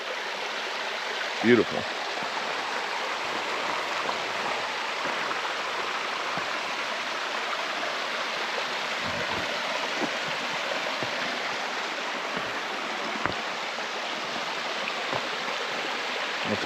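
A small water cascade tumbles over rocks along a hiking trail, a steady broad rushing wash heard close, with a person briefly speaking over it.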